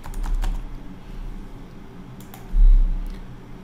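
Typing on a computer keyboard to write a file, a run of quick close key clicks in two short bursts with a pause between.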